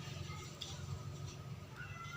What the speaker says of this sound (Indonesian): itu suara kucing saya tuh